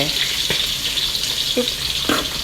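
Cabbage and long beans hitting hot oil in a pan for Thai sour curry with fried fish, a steady sizzle with a few sharp stirring clatters, close and continuous.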